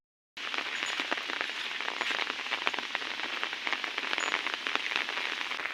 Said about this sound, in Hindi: आज बहुत वर्षा हो गलानी